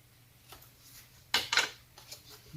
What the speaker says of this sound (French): Je prends une paire de ciseaux